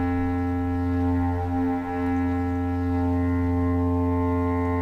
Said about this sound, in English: this bass clarinet sound, without any of its, extra effects on top, just sounds like this